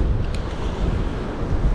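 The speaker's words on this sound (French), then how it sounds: "c'est dingue quand il pleut là, le vent il se réaccélère" Strong wind buffets the microphone during rain out at sea on a fishing boat, a loud, steady roar with gusty low rumble and no speech.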